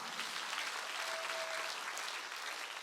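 A church congregation at a Sunday worship service claps together in a sustained, even burst of applause, faint and distant but continuous, with no voices on top.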